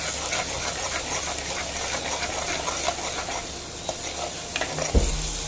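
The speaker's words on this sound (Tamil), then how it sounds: "அரைச்சி வச்சு இஞ்சி பூண்டு விழுதை வந்து இப்போ எண்ணெய் நல்லா காஞ்சதுக்கப்புறமா நம்ம ஆட் பண்ணிக்கிறோம்" Ginger garlic paste sizzles steadily in hot oil while being sautéed for a grandmother-style mutton kuzhambu. Close stirring scrapes and a sharp knock near the end sit over the constant frying hiss, with no talking.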